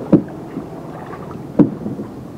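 A small boat being paddled on water, with two distinct paddle strokes spaced more than a second apart over faint background wash, no speech.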